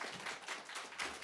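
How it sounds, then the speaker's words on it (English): An audience applauds two student union candidates at an Oxford hustings, a brief, faint burst of scattered clapping with no speech over it. "can we have a round of applause for our two candidates?"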